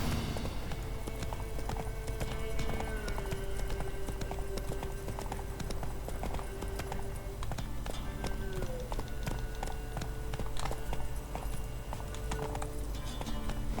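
Roach, a horse in The Witcher 3, gallops with a steady, rapid clip-clop of hooves under a constant layer of game music and ambience, and a brief whinny surfaces partway through.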